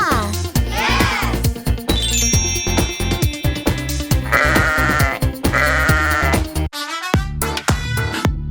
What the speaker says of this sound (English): The sheep goes ba ba.